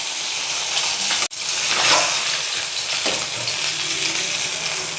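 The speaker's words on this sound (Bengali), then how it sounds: "এইভাবে আমি সমস্ত মাছগুলোকে ভেজে নেব।" Bata fish sizzling and frying in hot oil in a pan at home, a steady close crackle and hiss with one brief dropout midway, no talk.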